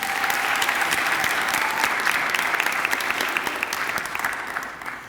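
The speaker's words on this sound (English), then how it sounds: "I think that deserves a round of applause." An audience applauds for students from Newark at a university announcement event, a dense, sustained burst of clapping from many hands that tapers slightly toward the end.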